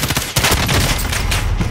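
Rapid bursts of video game gunfire crackle nonstop for under two seconds, loud and close, overlapping shots blending into a dense volley with no talk.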